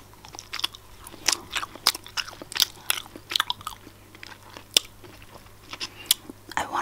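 Crisp bites and chewing on a Kinder chocolate egg with white chocolate, close-miked crunches coming in a steady irregular rhythm of sharp clicks and soft mouth sounds, no talking.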